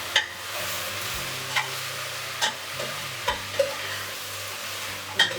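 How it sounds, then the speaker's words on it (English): Onion and okra fry in oil in a pan over lowered heat, a steady sizzle broken by several distinct scrapes and knocks of a utensil stirring them. "I've got it stirred, the onion and the okra together."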